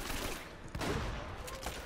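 Gunshots in the video game Uncharted: Drake's Fortune, a quick close burst of shots with sharp cracks, heard among other game sounds.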